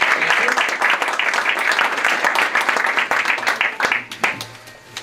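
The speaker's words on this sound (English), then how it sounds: "Let's give him a round of applause in his absence." An audience at an Albanian-American award ceremony applauds in a dense, sustained wash of clapping that fades out near the end.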